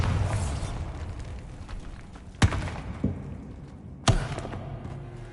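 Bombarda blasting spell cast in the Hogwarts Legacy video game: two sharp, loud thumping blasts with brief echoing tails, plus a softer thud between them, over a low rumbling background.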